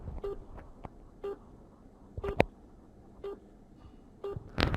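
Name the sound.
phone call tone on loudspeaker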